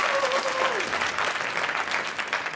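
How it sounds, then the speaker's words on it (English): A room full of tech summit attendees applauds warmly, a dense, steady wash of hand claps lasting a couple of seconds with a faint voice briefly audible at the start. "Give yourselves a round of applause."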